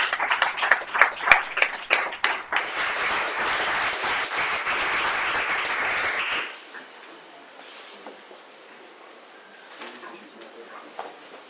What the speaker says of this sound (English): Big applause for our amazing speakers.